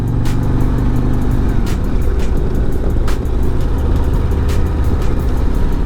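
A 2024 Harley-Davidson Road Glide motorcycle is ridden along bumpy back roads, its engine giving a steady loud low rumble with wind rush and a few brief bumps or clunks as it is shifted into second gear.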